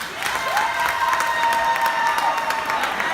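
A television talk-show studio audience claps and cheers in a steady, dense burst of applause, sustained and fairly loud, with crowd voices mixed in.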